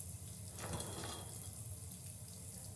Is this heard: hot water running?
yes